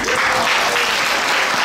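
Crowd at a children's Haiti quiz challenge live event in Paris applauds steadily, a dense, loud wash of clapping with no gaps.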